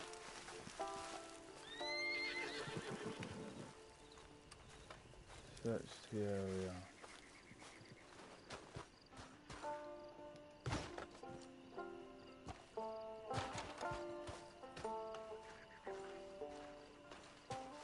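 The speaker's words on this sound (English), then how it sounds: "It seems to be horses over here then." Horses in the Red Dead Redemption 2 online world whinny and snort nearby over clip-clopping hooves, with several neighs spread through the stretch while a player speaks briefly.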